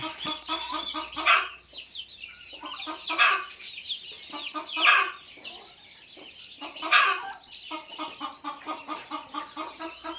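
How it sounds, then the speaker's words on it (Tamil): A turkey hen and her chicks clucking and chirping in soft overlapping bursts, with higher peeps mixed in, close by and continuous without any talk. "இது வந்து வானக்கோழி தான் குஞ்சுகளோட நேர காட்சி"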